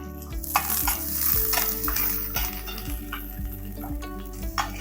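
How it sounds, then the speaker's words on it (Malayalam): Sliced onions and chopped garlic sauté in a pan with a bright, steady sizzle and repeated spatula scrapes, over a low continuous hum. "ഒരു 2 സവാള ചേർത്ത് കൊടുക്കാം. സ്ലൈസ് ചെയ്തതാണ് കേട്ടോ. ഒന്ന് വഴറ്റിയെടുക്കാം."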